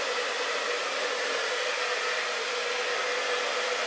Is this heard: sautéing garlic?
no